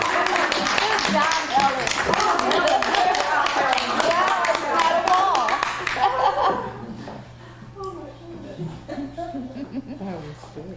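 Audience at an evening entertainment show with card tricks claps, with laughter and chatter mixed in, loud and dense at first before thinning into scattered claps and talk.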